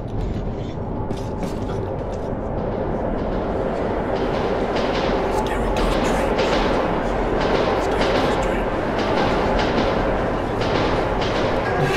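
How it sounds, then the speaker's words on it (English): A train rumbles past in the Metro 2033 Redux video game, a steady heavy roar with rhythmic clickety-clack of wheels on rails, loud and continuous throughout with brief metallic rattles. "Scary ghost train."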